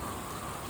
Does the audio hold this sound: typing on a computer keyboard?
no